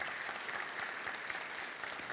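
A large audience applauds steadily at Pusan National University's 2023 entrance ceremony. The clapping forms a dense, even wash that stays at a constant level throughout, with no voices over it.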